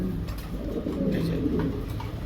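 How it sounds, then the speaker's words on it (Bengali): A very active male JNS pigeon coos repeatedly, close and fairly loud, a continuous throaty rumble of overlapping coos. "একেবারে ফুল অ্যাক্টিভ একটা জেএনএস নর কবুতর"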